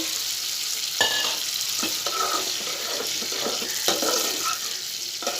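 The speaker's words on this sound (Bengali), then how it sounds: "এখন মশলাটা কষানো হোক" Masala and potatoes frying in a pan with a bit too much water, a steady wet sizzle with a few clinks and scraping stirs, close and continuous, without talk.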